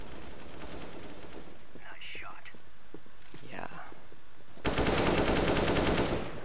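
AK-47 fire in the video game CS:GO, heard as a loud, dense burst of automatic shots near the end after a stretch of quieter game noise and faint voices.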